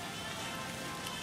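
Soft, steady patter of rain dripping from trees at night, a faint continuous hiss of scattered drops with no voices.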